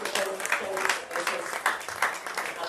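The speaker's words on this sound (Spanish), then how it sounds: "¿Por qué no le damos un aplauso a ese Dios?" Church congregation claps together in a lively burst, irregular hand claps mixed with some voices, moderately loud and steady for a few seconds.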